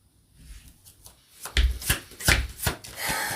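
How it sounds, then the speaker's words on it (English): Tarot cards being shuffled by hand, with a quiet rubbing start that builds into several loud, close riffles and slaps in an uneven rhythm and no talking. "For a second I thought I was shuffling in reverse"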